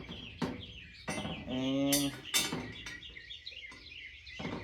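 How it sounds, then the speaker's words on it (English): Loud bird chirps and calls close by, bursts of repeated tweets with gaps between, while a person briefly speaks. "now the birds decide to be very loud"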